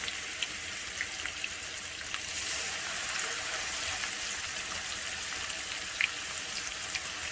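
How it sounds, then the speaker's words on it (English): Chuck roast steak searing in hot grease in a pan, a steady close crackling sizzle throughout, getting slightly louder partway, with a few sharp pops. "get this grease hot and sear the steak"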